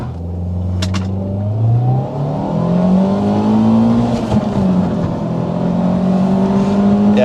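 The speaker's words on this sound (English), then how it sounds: "we have got the Sera on a very straight road to see how fast it can accelerate 0 to 60" Toyota Sera accelerating hard from standstill to 60 mph on a straight road, its engine note rising steadily through the gears with clear shifts, loud and close throughout.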